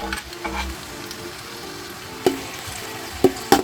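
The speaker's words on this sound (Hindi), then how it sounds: "यहाँ पे इसको थोड़ा सा ब्राउन करेंगे प्याज को।" Onions browning in a hot pan for Afghani rice, a soft steady sizzle with a few sharper pops and spatters toward the end, fairly quiet and with no voices.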